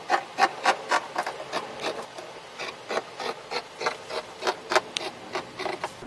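Scissors cutting denim fabric for a ladies' pants pattern, a steady series of close, crisp crunching snips in an even rhythm, about a dozen cuts with no talking.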